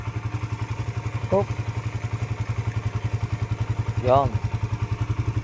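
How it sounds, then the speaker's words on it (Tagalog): A motorcycle engine idles while warming up, thumping in a steady, fast, even rhythm close by, with two short spoken interjections over it. "Tapos, pinainit natin yung makina."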